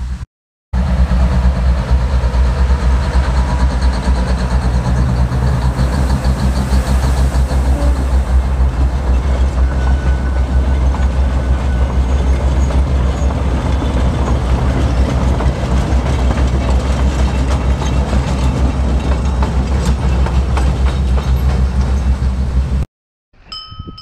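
A train passes close by a track crossing on a trek route, a loud sustained roar with rhythmic clickety-clack of wheels over rail joints for about twenty seconds before cutting off abruptly.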